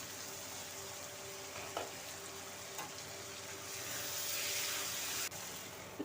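Okra frying in a wok gives a soft, continuous sizzle, faint and distant, with a few light stirring knocks and a swell of hiss near the end.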